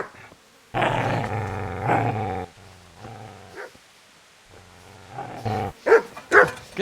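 A dog in Kingdom Come: Deliverance growls loudly at close range in long rumbling bursts. Sharper snarls and whimpers follow, and no speech is heard.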